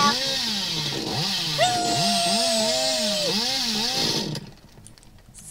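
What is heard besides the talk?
chainsaw revving in the video game Dead by Daylight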